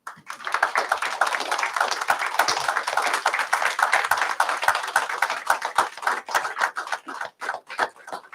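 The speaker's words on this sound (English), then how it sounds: "I want to give him a great round of applause" Audience clapping at a city commission meeting, a dense, steady patter of many hands that thins into scattered individual claps near the end.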